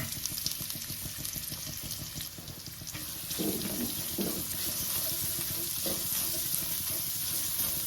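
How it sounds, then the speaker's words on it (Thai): Oil sizzles and crackles steadily as sliced shallots fry in a pan, with occasional stirring scrapes and clinks. "พอเราเจียวจนหอมแดงของเราสุก"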